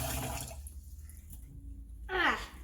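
Cold tap water runs and sloshes as rice is rinsed inside a leak-proof cooking bag, a brief splashing burst near the end after a quieter stretch, with faint low background hum.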